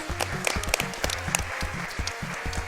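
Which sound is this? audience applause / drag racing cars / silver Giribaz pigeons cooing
audience applause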